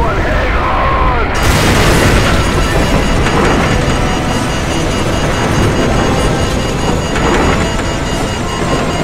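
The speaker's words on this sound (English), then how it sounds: "What appears to be an explosion" In Call of Duty 4, a nuclear blast erupts as a sudden loud boom and then becomes a long, heavy, roaring rumble that fills the whole stretch, dense and sustained.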